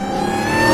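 Supercharged Jailbreak car engine revving with the AC rerouted to the engine, a steady loud whine that swells slightly louder toward the end, heard close up.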